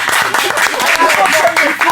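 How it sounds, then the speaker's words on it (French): Audience at a French stage show breaking into applause, a burst of dense clapping from a crowd with voices and cheers mixed in, fairly loud and close, with a few brief dips in the clapping. "est-ce qu'on peut applaudir très très fort pour lui?"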